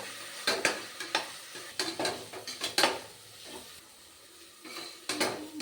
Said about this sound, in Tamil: நல்லா அந்த இஞ்சி பூண்டு வாசனை போகிற அளவுக்கு வதக்கிடுங்க